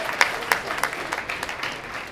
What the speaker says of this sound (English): let's give a great round of applause to everybody who made this possible.